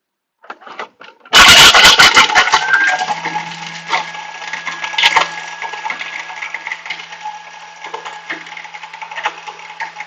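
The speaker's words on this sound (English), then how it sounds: "Now, I'm just going to grind them." A Thermomix grinds ingredients during a French-style cooking demo, starting with a sudden loud crushing burst and settling into a steady, whirring motor grind with rattling bits.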